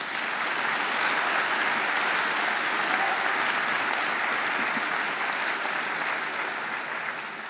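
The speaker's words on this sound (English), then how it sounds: "She deserves another great round of applause." Sustained audience applause at a Macquarie University graduation ceremony, a broad wash of many hands clapping steadily for several seconds with no talk over it, easing slightly near the end.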